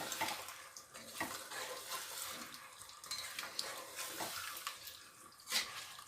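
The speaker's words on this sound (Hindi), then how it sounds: "अब इसमें पानी डालेंगे। ये वाले 5 गिलास जाएंगे इसके अंदर," Water is poured into a pot of browned beef for nihari, a soft, quiet splashing and trickling with a few slightly louder splashes.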